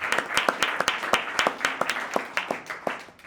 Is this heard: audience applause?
yes